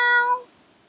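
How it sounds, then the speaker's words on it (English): A single short meow, bright and close, about a third of a second long, fading quickly into near silence. "Meow."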